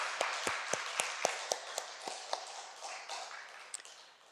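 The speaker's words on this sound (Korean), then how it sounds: "하나님 앞에 영광 박수를 드립니다" A church congregation claps during a Friday prayer service, a sparse, steady rhythm of sharp individual claps that slowly thins and fades out.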